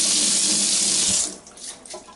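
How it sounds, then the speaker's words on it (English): Hot water gushes loudly from a kitchen tap over a can of cooking spray for about a second, then cuts off, leaving a few light drips and trickles. "it helps to run it under some hot water to get it to actually spray"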